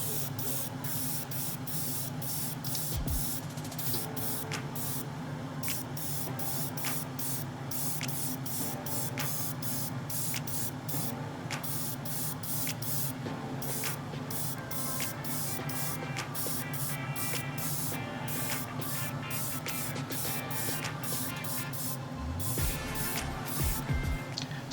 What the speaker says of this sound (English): loaded up my airbrush, test the flow, and then I can start spraying on the dash